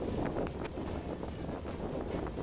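Strong winds of Cyclone Yaas, with rain, on the coast near Digha: a steady, rushing buffet of wind across the microphone, fairly close, with no clear speech.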